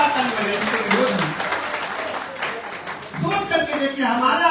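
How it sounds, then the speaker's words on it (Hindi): Seminar audience clapping loudly together, a dense sustained wash of applause with a voice speaking over it throughout. "आप जोरदार ताली बजाइए उनके विरोध में"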